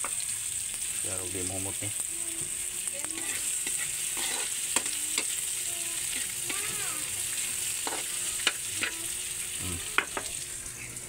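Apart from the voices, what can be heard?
sautéing onions, ginger and garlic in a pan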